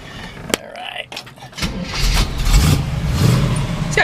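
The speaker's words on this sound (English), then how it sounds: "Let me go fire this one up for you." A 1967 Chevrolet Camaro coupe's V8 engine cranks and catches, then settles into a loud, steady rumble through dual exhaust; brief clicks and faint voices come before it starts.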